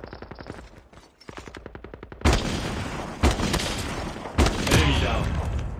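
Rapid automatic gunfire and heavy single shots ring out in Call of Duty Mobile gameplay, with a fast rattling burst giving way to several loud, booming reports at close range.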